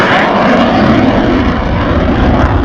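A loud, steady roar of a jet aircraft with two GE turbofan engines at an airshow fills the air, constant and close, with no talking.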